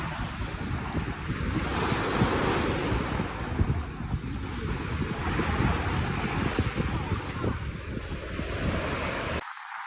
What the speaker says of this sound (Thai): ตอนนี้ก็อยู่ทะเลแล้วนะครับผมบรรยากาศดีมากแล้วก็ไม่ร้อนเลยนะครับทะเลลมดี มากนะครับ